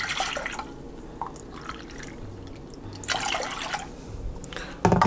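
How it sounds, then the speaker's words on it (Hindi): Three cups of water are poured into washed toor dal in a pot, giving short splashy bursts of liquid with quiet gaps between them, close and moderately loud. "इसमें 3 कप पानी डालते हैं।"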